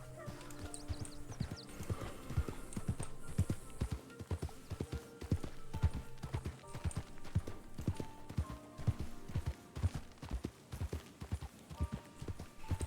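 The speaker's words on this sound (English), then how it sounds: "Look at my pretty horsey." Horse hooves clip-clop steadily in the RedM video game, a brisk repeating rhythm of hard knocks that runs throughout, close and fairly loud over a busy background.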